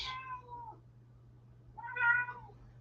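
A house cat meows twice, close and clear, with a short pause between the two calls over a faint low hum.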